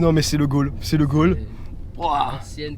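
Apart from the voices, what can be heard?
No everyday noises stand out.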